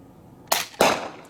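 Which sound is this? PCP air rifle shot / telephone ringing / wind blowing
PCP air rifle shot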